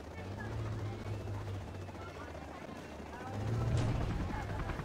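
Attack helicopter in the Command & Conquer Generals video game: a steady low rotor drone and engine whine that holds for several seconds, swells slightly toward the end, and sits quietly in the mix.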